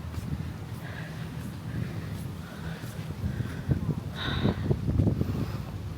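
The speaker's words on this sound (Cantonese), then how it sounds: "原來呢喺個湖面吹上嚟啲風呢係凍㗎" Steady breeze blowing off a lake at a shoreline just after sunset, a soft continuous rush of wind noise against the microphone with faint gusts, quiet and broadband throughout.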